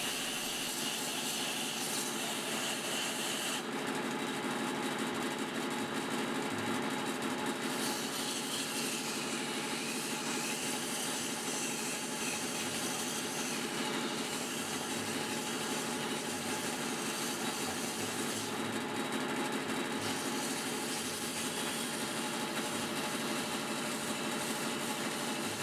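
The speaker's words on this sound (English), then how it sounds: "we're going to go ahead and use sandpaper to get rid of that stringiness" Sandpaper rubs against the inside of a wooden flower-form vase spinning on a lathe, a steady, soft abrasive hiss over the motor's whir for the whole stretch.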